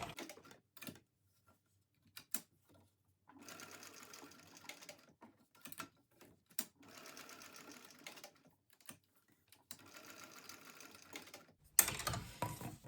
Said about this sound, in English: I'm just going to sew my box first